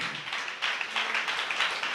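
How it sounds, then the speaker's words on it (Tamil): A church congregation claps hands together in worship, giving a brief burst of many overlapping claps at moderate loudness with no speech over it. "நல்ல கைத்தட்டி தெய்வத்தை மகிமைப்படுத்துங்க"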